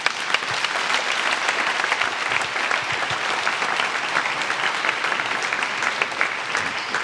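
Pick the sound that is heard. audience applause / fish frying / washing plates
audience applause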